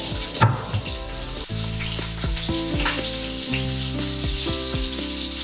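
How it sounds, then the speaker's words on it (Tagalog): Salmon frying in a pan, a loud continuous sizzle and spatter with sharp crackles and bursts popping over it throughout, close up and without talk. "Nagwawala yung ating pinipritong isa."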